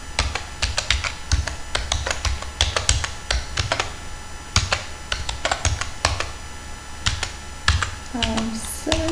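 Rapid clicking keystrokes on a computer keyboard, typing in uneven bursts with short pauses, close and clear, while a voice speaks faintly in the background.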